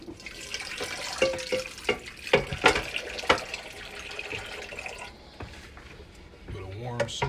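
Washing up at a sink with warm soapy water and a sponge during a live cooking demonstration: water runs and splashes with clattering knocks and scrubbing, while people talk over it.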